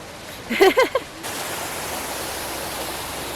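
Steady broadband rushing of falling water fills the background, with a brief burst of voices near the start before the roar continues alone.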